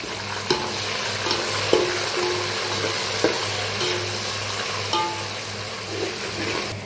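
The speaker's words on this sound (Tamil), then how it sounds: "இப்போ இது ஒரு 2 வதக்கு வதக்குங்க." Coriander leaves and green chillies sautéing in oil for mutton biryani, giving a steady loud sizzle with a low hum beneath and a few sharp scrapes from a stirring spoon, with no voices.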